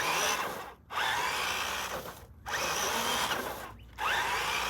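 RC crawler with a 13T 555 motor and Hobbywing 1080 ESC run at full power, a loud close whining buzz in three long bursts cut by brief silent gaps, no voices.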